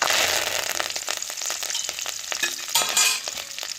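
Urad dal and curry leaves crackle and sizzle in hot oil, a loud close spattering fry that holds steady with popping bursts near the end.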